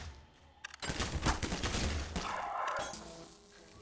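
Half-Life 2 gunfire erupts after a brief quiet start: a loud, rapid burst of shots with crashing impacts, then a sustained noisy barrage that gradually fades.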